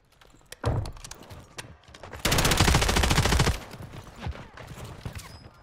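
Automatic gunfire in a Call of Duty match, with a few scattered shots followed by a loud, sustained rapid burst lasting over a second, then sporadic single shots, with players talking around it.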